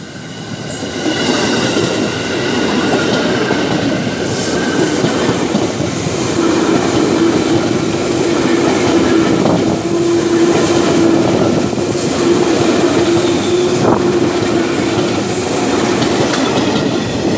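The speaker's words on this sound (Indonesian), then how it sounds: "KRL tujuan stasiun Rangkas Bitung." A KRL commuter electric train bound for Rangkasbitung runs past on straight double track east of Citeras station, a steady loud rumble with clickety-clack wheel rhythm and a faint squeal, continuous throughout with no talk.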